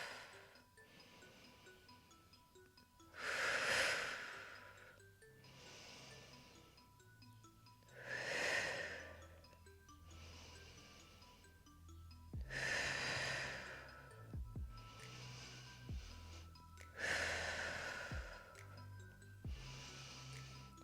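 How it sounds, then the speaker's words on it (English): Slow, deep breaths during a pelvic floor and core workout: long inhales and exhales come every few seconds, soft and close, with faint clicks and rustles of movement between them and no talking. "Inhale down,"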